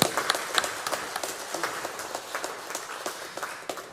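Applause from a church congregation during a Sunday service, a steady patter of many hands clapping at a moderate distance, with no voices.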